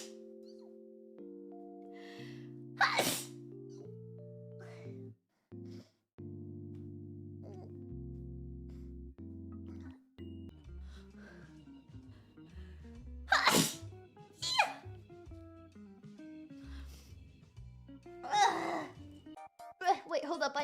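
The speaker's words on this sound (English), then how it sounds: "I need to sneeze. I must sneeze." Several sharp sneezes from a vtuber-style speaker, loud and close, spread across a stretch of musical, sing-song talking and sighing noises, with bursts near the middle and end.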